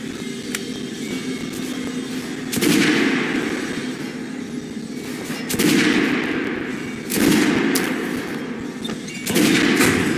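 Repeated bursts of gunfire at a shooting range in Metro: Last Light Redux, four loud volleys spaced a few seconds apart over a steady background rumble.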